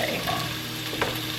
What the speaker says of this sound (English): I'm gonna put the green peppers in first because these were chopped a little bit larger, so I want those to break down a little bit